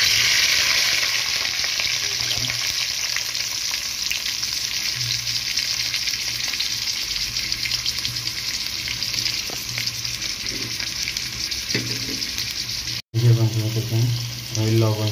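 Sweet pumpkin fries with chili in a pan, giving a steady, close sizzle with stirring scrapes that runs unbroken for most of the clip before a brief cut and a short voice near the end.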